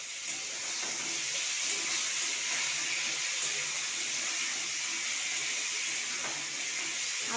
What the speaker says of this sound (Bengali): আলু পটলটাকে লাল লাল করে ভেজে নেব।